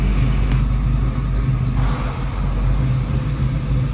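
A car engine runs steadily while the power steering system is bled after fitting an AQP high-pressure hose, a loud close drone with a low hum and slight fluctuations, without speech.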